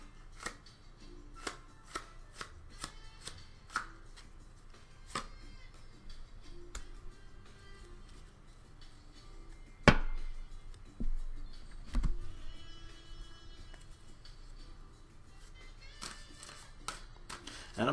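Tarot cards are shuffled by hand in short bursts of crisp ticks and riffling snaps. The sounds are close and fairly soft, with a louder handling clatter partway through.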